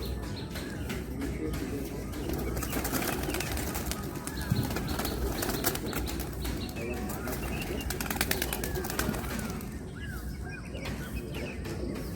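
Racing pigeons released in a twelve-bird tournament flight, with soft cooing and bursts of wing flapping close by over steady outdoor background noise, sporadic chirps mixed in.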